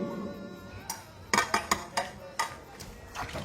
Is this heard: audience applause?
no